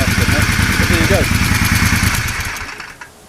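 Motorcycle engine held at maximum revs, a loud steady high-pitched roar that drops away near the end as the throttle is released.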